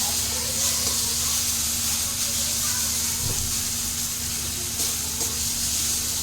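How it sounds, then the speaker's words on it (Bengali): Spices frying in hot oil for a tadka make a loud, close, continuous sizzle and hiss that holds steady throughout. "এটা দিয়েও 2 মিনিট আমি ভেজে নিচ্ছি"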